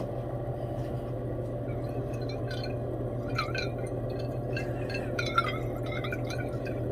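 Distilled water poured over gold scrap in glassware, faint trickles and small drips over a steady low hum, with a brief clink partway through.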